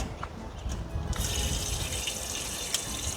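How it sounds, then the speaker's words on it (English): Water pours and splashes steadily into a container, a continuous rushing sound that swells slightly partway through. "So we're just gonna add a little water to it."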